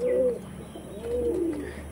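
A Star Kalanka pigeon of the Andhra breed coos close by, two drawn-out throaty calls separated by a short pause, clear over a quiet background.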